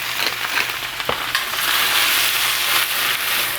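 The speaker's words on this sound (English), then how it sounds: "as a quick side dish, I'm gonna saute some spinach" Spinach sautés in a pan with a little salt and pepper, a loud, steady sizzle close by with a sharp utensil knock early on and soft stirring scrapes, no voices.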